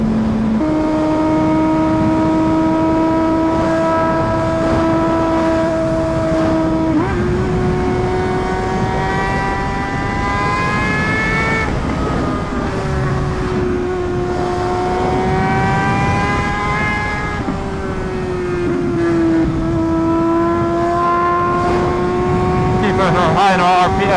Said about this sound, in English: When I see a straight road and the bike sounds like this, I gotta, you know, get it up in the RPMs.